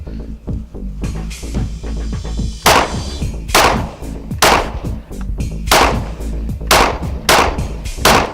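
A 9mm Smith & Wesson M&P 2.0 pistol fires at an outdoor range: about a dozen loud, sharp reports in an uneven steady string, each followed by a short booming echo.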